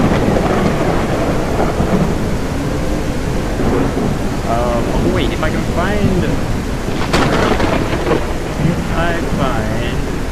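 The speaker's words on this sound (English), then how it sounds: "here is the thunderstorm that just decided to pop in" A loud, continuous thunderstorm in the video game Echoes of Extinction, with steady heavy rain and rolling thunder filling the scene while someone talks over it.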